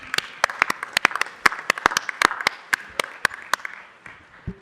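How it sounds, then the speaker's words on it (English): A scattered round of applause at a city council meeting, with a modest number of hands clapping in distinct, uneven slaps that thin out and fade toward the end. "So everyone give them a round of applause."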